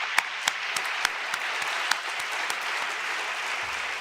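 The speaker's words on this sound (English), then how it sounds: "now I need you all to join me in a round of applause and gratitude for these host institutions" Audience applause during a sustainability conference opening ceremony, a dense, even roll of many hands clapping across a large room with a few sharper claps standing out, continuing unbroken to the end.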